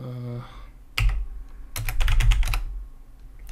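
Keys clack on a computer keyboard during a game of MECC's 1978 BASIC Oregon Trail, a brief electronic tone followed by a few separate taps and then a quick close run of keystrokes.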